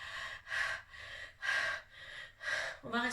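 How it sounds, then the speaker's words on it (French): A voice teacher demonstrates exaggerated high chest breathing for singing, with three loud, evenly spaced breaths as the lungs rise and fall, and a brief vocal sound at the end. "on va respirer avec cette espèce d'action, ces poumons qui se soulèvent et qui s'abaissent"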